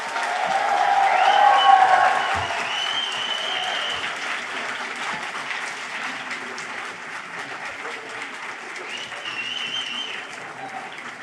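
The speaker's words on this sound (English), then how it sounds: "give all of your supporters here and online a huge round of applause" Audience applause for graduates at a 2022 Sydney graduation ceremony for hospitality, design, health and education, a large crowd clapping that swells early, then settles into a sustained even patter with a few faint voices beneath.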